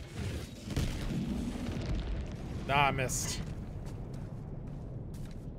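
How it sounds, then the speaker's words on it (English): Artillery cannon blasts in Helldivers 2 land as deep booming explosions, one near the start and a louder one midway, over a steady rumbling game soundscape while players talk. "That's an artillery cannon."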